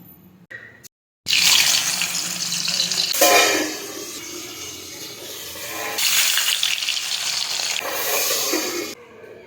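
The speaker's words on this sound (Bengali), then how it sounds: "গরম হয়ে গেছে, এবার মাছটাকে দিয়ে দেবো।" Parshe fish is laid into hot mustard oil in a pan and sets off a loud, steady sizzle that swells after a brief pause. The hiss runs continuously, surging twice, before stopping abruptly.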